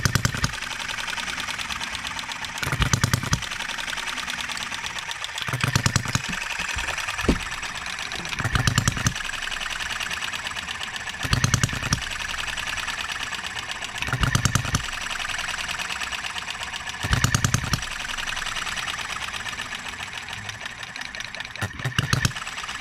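A small Enjomor 6cc hit-and-miss engine mounted on a cart, running without coolant, fires in regular bursts roughly every three seconds with quieter coasting gaps between, clear and close.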